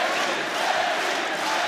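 A packed arena crowd roars at a professional welterweight boxing fight, a dense sustained wall of cheering with no breaks, heard from within the venue.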